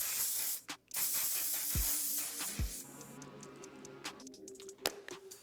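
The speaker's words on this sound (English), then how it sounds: "the very last step is to use another setting spray" Until Dawn setting spray misted onto a face, a soft close hiss with a couple of short pump bursts, against faint room noise and no talk.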